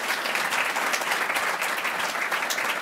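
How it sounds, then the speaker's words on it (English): Steady, full applause fills a lecture hall at a presidential center's inaugural lecture, an audience clapping continuously and evenly throughout, with no voices over it. "Let's give her another round of applause."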